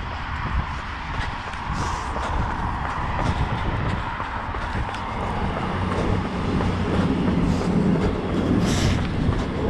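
A diesel train rolls past at steady loudness for about ten seconds, a continuous rumble with rhythmic clickety-clack of wheels over rail joints, heard outdoors with no talking.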